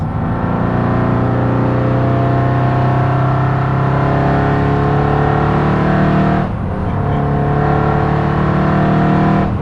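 A supercharged 700+ bhp Mercedes C63 AMG engine runs close by with a deep, throaty drone. The pitch dips briefly, then holds strong again.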